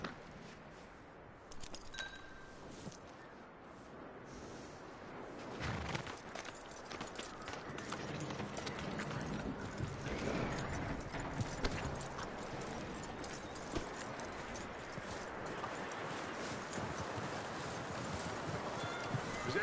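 Horse hooves clip-clop in a steady walking rhythm across the Red Dead Redemption 2 video game, with a faint clink of tack and soft ambient background. The steps are moderately close and continue throughout, with no talking.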